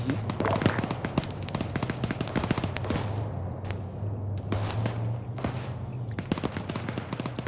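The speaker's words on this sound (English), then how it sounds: "As of current, the contact died down, but I still have sporadic shots." Sporadic gunshots in a military shooter video game: sharp, repeated shots, some close and loud, others more distant, over a low constant hum.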